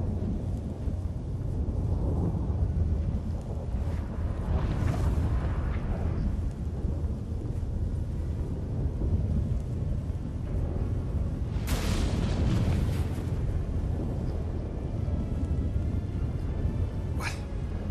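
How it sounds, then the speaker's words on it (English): A storm in the video game The Witcher 3 rumbles as a constant loud roar, with heavy thunderous booms swelling twice and a sharp crack near the end. "That a storm?"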